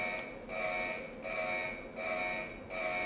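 A camp alarm in the game Fallout Tactics blares as a repeating pulsing tone, rising and falling about every second and a half, steady and loud with no speech.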